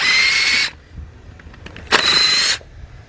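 A power ratchet on a wobble extension runs two short, loud whirring bursts while removing oil pan bolts on a 2005 Cadillac CTS 3.6, with a quiet gap and faint clicks between them.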